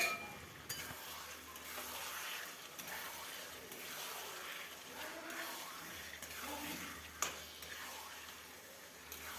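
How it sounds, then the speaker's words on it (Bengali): Chicken pieces stir-frying with spices in a large pan, a continuous soft sizzle with occasional scrapes and clinks of a utensil against the pan, fairly quiet and with no clear speech. "চিকেনগুলো দিয়ে দেওয়ার পর ভালোভাবে চিকেনটা আমি কষাতে থাকবো"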